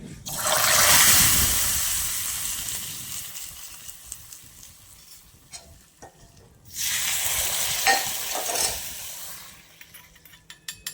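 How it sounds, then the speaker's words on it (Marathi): Hot tempering poured onto a traditional Konkan-style tomato saar, giving two loud bursts of crackling sizzle that fade into a quieter simmering hiss between and after them. "सारावर फोडणी होते."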